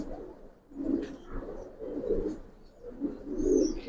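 Giribaz pigeons cooing nearby in a series of soft, throaty, rolling coos that repeat about every second, with faint chirps high above and no speech.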